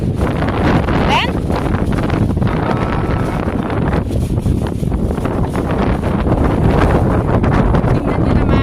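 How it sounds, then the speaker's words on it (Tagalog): Strong storm wind roars at sea, buffeting the microphone in a loud, continuous rush with gusty surges and no let-up. "Sobrang lakas ng hangin."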